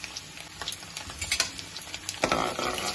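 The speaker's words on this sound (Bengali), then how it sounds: "প্রথমে কুচো রসুন আমি দিয়ে দিচ্ছি।" Chopped garlic fries in a pan as the first step of fried rice, giving a soft sizzle with scraping stirs and light pattering clicks that swell louder toward the end.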